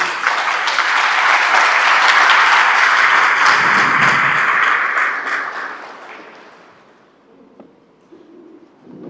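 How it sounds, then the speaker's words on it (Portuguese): A church congregation applauds after a Bible reading, a full, steady wave of clapping from many hands that swells, holds for several seconds, then tapers off into quiet room murmur. "Vamos aplaudir a palavra de Deus."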